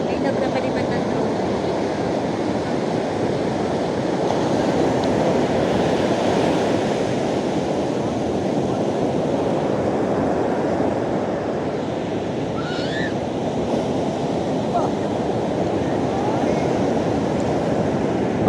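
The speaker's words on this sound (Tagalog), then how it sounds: "Alon." Ocean surf rolls in at a beach in Baler, Aurora as a steady broadband wash with wind noise across the microphone, loud and continuous throughout.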